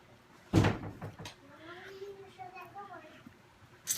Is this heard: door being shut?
yes